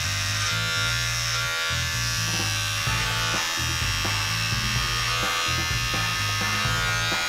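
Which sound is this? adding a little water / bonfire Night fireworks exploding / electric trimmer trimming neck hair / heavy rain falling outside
electric trimmer trimming neck hair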